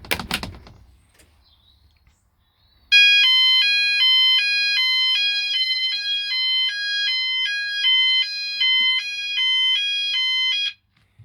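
E.M.S. FirePoint 5004 fire alarm sounders sound after a call point is pressed, a loud electronic two-tone warble alternating steadily for about eight seconds, following a brief handling clatter and silence.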